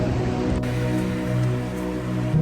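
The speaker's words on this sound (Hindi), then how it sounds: "बारिश हो रही है" Steady rain falls on a Berlin street during a city walk toward Museum Island, a continuous close hiss of drops on pavement and surfaces with no speech.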